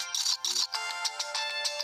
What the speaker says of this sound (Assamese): হাসনি ফোনটা উঠা ফোন আছে দেখা নাই